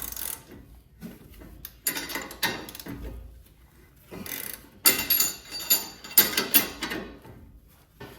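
A hex tool loosens a bolt on a Dodge Charger coilover, making irregular bursts of close metallic clicking and clattering that grow louder and busier toward the end, with no talking.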